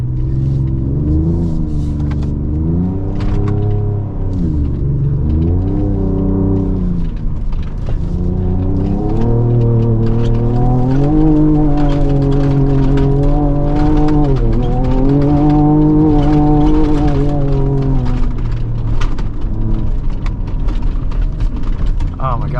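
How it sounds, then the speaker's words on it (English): Driver's seat rattling inside a 2024 Ford Ranger Raptor driven in two-wheel drive over sand dunes, loud and continuous beneath a droning, rising and falling engine note, with rapid clicking rattles through most of the ride and a voice talking at points. "Apologies for the rattling car seat, but that's just what we got today."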